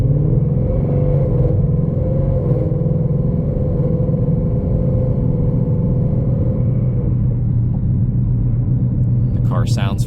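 A 2020 Ford Mustang GT's V8 engine rumbling steadily and loudly up close, a deep continuous idle with slight waver, with a brief sharp clatter at the very end.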